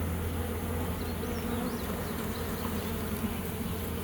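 Honey bees buzz in a steady, dense drone from an opened hive colony ahead of swarming, a continuous close hum filling the whole stretch without talk.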